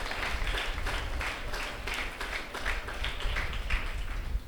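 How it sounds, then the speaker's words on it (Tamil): A church congregation claps in thanks at the close of a Mass at the St. Ignatius shrine in Sathampatti, with brisk, scattered applause that holds steady for several seconds in a reverberant space. "நாம் கைத்தட்டி நம்முடைய நன்றியையும் வாழ்த்துக்களையும் தெரிவிப்போம்"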